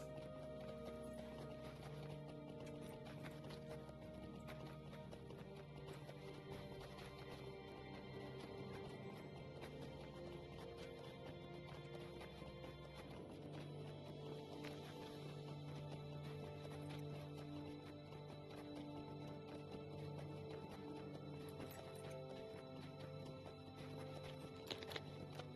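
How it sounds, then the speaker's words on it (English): Hoofbeats from a horse ride in the video game The Hunt for Amarthiel, a steady clip-clop with occasional neighs running throughout, fairly quiet and continuous, with no speech over it. "I'm gonna finish this horse ride"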